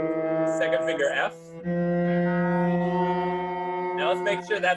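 A cello sounds a sustained low F fingered with the second finger during a scale exercise, a steady bowed tone held for a few seconds, with speech before and after it.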